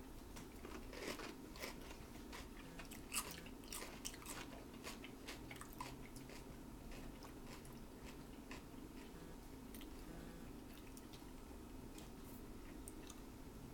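Crisp, wet crunching and chewing of cucumber kimchi eaten by hand, a quiet close-up series of irregular bites and chews with no talking.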